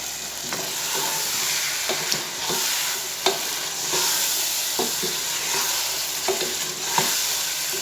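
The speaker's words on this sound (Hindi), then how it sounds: "इसको जस्ट हम थोड़ा सा भूनेंगे 1 मिनट" Spices and dried plums frying in oil for chicken biryani, a steady close sizzle with intermittent stirring scrapes and clinks breaking through at irregular intervals, no talking.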